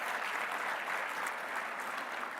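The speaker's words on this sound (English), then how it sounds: "So one grand applause for all the startup and inventors joining us today." Steady, dense applause from a crowd, even in loudness throughout, with no voices standing out.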